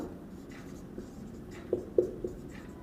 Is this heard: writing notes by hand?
yes